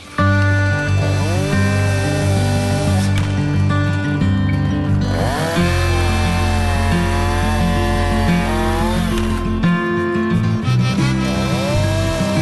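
A Husqvarna chainsaw fitted with Triobrake makes a bore cut into wood with the tip of its bar, its engine running steadily and loud throughout, rising and dipping in pitch as it bogs down and recovers in the cut.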